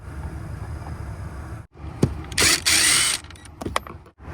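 Ratchet working loose 7mm bolts inside a 2020 Chevrolet Silverado during a cabin air filter change: a short burst of quick clicking, a few sharp mechanical clacks and knocks, close by with no talk.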